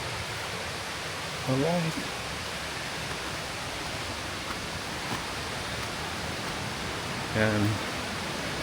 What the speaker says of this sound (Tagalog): So dito banda sa gitna, maririnig nyo na po yung pagaspas ng tubig.